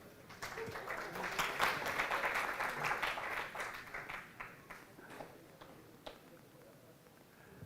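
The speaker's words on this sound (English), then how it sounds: "round of applause for Yuan." Conference audience applause in an indoor hall, a burst of many hands clapping that swells quickly, then thins out into scattered claps and dies away, heard from some distance.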